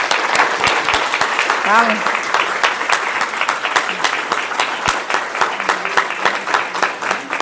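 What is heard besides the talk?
audience applause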